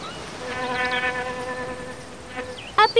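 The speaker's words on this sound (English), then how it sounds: "A bee." A bee buzzes steadily with a tonal hum close by for a couple of seconds before brief louder noises cut in at the end.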